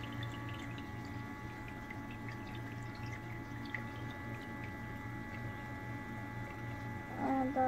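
A toy garden fountain trickles and pours water steadily nearby, a faint continuous flow with a low pump-like hum and small drips, ending in a brief voice.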